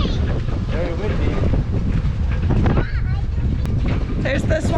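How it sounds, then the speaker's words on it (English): Strong wind ahead of a big rainstorm roars steadily into the microphone, a constant broadband rumble with occasional gusts, while faint voices come through underneath. "Very windy."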